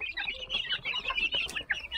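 Heritage breed chickens, about a month old and raised for eggs, cluck and chatter in a busy overlapping flock, close and fairly soft.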